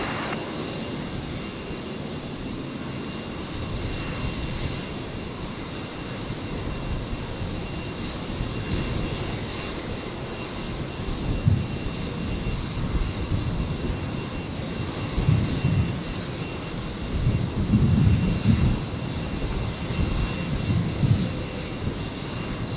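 A fixed-wing airliner landing on runway 01 right at Brisbane International Airport on a stormy night, heard as a steady, broad engine roar that swells somewhat louder in the second half, with no talk over it.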